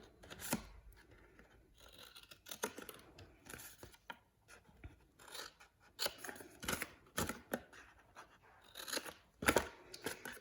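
Scissors snip paper cardstock for a small Halloween box, a series of quiet irregular close cuts and rustles with brief pauses.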